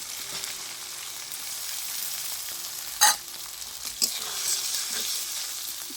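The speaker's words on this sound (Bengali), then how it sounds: "ভালো করে টমেটোটা ভেজে নেব" Chopped tomatoes fry with cumin-coriander paste in a pan, giving a steady close sizzle broken by a sharp utensil clink and a couple of light knocks from stirring.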